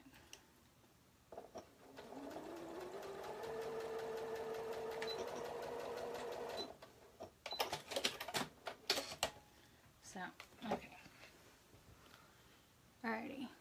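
A sewing machine runs a straight stitch along a cardigan hem, a steady fast whirring that lasts a few seconds, followed by someone speaking and handling fabric.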